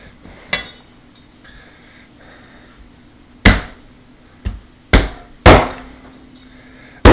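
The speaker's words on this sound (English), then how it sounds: "this with the hammer is the only way to split a breast" Several loud, sharp whacks of a rubber mallet splitting a duck breast on a hard surface, spaced irregularly, with a faint ringing hum in the background.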